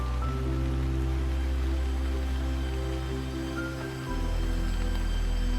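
Rain falling in woodland: a soft, even hiss of drops runs continuously beneath a steady low droning tone, with no voices and no breaks.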